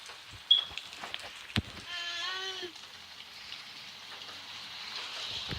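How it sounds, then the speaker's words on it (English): Light rain falls outdoors, a soft continuous patter with a few sharper drops close by, and a brief harmonic animal-like bleat rises partway through. "As you can see, it is raining"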